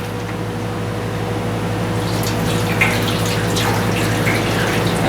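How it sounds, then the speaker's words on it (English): Liquid washing and sloshing steadily inside a Ford 2N tractor fuel tank as it gets a rinse, a continuous close watery rush with a low steady hum underneath and a few splashy bursts, no voices. "I might just dump her all in and give her a good rinsing."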